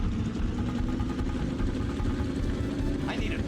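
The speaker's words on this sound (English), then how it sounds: "Start your engines." Race car engines from the M&M's Racing video game drone steadily at a moderate level throughout, with a brief rising electronic tone near the end; a voice is also present.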